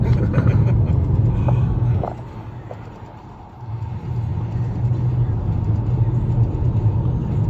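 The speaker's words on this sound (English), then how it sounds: "You can hear the highway." A steady low rumble of distant highway traffic fills the background, rising and dipping slightly as vehicles pass, with no one talking, near Lassen Volcanic National Park.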